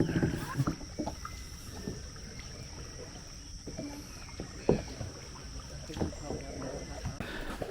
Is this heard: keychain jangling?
no